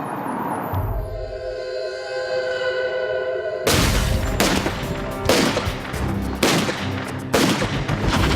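Several loud gunshots ring out in a crime reenactment on an isolated wooded road, sharp broadband bursts spaced about a second apart after a quieter, droning opening.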